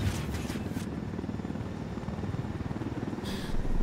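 Helicopter in the video game Ghost Recon Wildlands, a steady low rotor thump pulsing throughout at moderate volume, with a couple of brief higher bursts of noise near the start and end.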